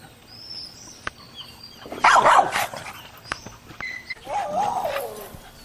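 Dogs at a game dog kennel bark and whimper in a few bursts at moderate distance, with faint background noise between the calls and no talking.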